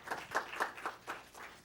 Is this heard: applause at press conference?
yes